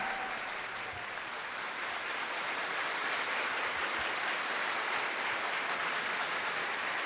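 Applause from a concert crowd at a big show in Abkhazia, honouring singers, thick and continuous, holding steady and swelling slightly across the whole stretch.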